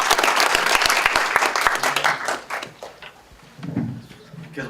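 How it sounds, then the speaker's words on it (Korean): Audience applause at an anniversary meeting of a district education development committee, dense clapping that fades after a few seconds as a voice begins speaking. "박수 보내주십시오."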